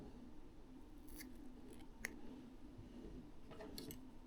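Scissors make a few faint, quick snips as fly-tying material, likely bucktail for a bendback fly, is cut to length over a low background hum.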